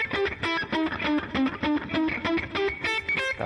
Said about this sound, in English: So if you play just up and down the pentatonic or blues scale, on the top 3 strings in the first position, it sounds something like this.